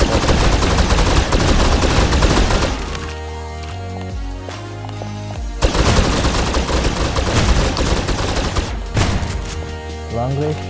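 Rapid bursts of gunfire in the shooter game Snowbreak Containment Zone, loud and dense, pausing briefly midway over a tonal game score before the shots resume in heavy volleys.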